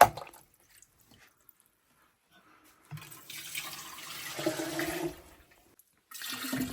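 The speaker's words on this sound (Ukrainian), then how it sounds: "Наповнюємо автоклав тепленькою водичкою" Warm water is poured into an autoclave holding jars of fish in tomato sauce for home canning, a steady splashing, gurgling pour for about two seconds after a quiet start, with another burst of running water at the end.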